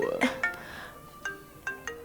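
A mobile phone rings in a restaurant scene in a Hindi-dubbed action movie, with short repeated tonal bursts at an uneven pace, moderately loud, over faint background murmur.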